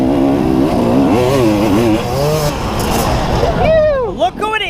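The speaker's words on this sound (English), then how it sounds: "So I hear a bike behind me" A dirt bike at a hare scramble race at Knobby Acres runs close behind, its engine revving up and down in loud, rising and falling whines over the rider's own engine roar.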